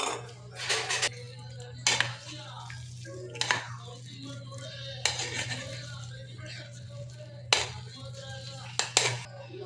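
Boiled potato and peas being mixed in a bowl for pani puri filling, with repeated short clinks and scrapes of a utensil against the bowl at an uneven rhythm, close by.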